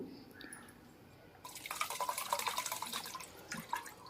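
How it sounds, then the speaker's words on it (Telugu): Three litres of water splash and trickle steadily into a pot after a quiet start, a close, bright pouring sound lasting a couple of seconds. "ఇప్పుడు ఇలా మూడు లీటర్లు నీళ్ళు వేసేసి ఈ ముక్కలు వేసేసుకోండి"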